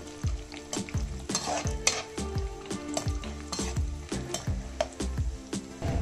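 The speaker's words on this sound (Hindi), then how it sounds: "कलर चेंज होने तक इनको मैं फ्राई कर लूंगी" Ingredients for carrot halwa fry in a pan while a spatula scrapes and knocks against it in a steady rhythm, a close sizzle running underneath with no one speaking.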